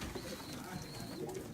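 Pigeons on a rooftop loft giving soft, low cooing calls, faint and close under a quiet ambient background.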